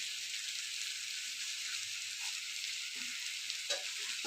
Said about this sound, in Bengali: আবারও ভালোভাবে কষিয়ে নেব।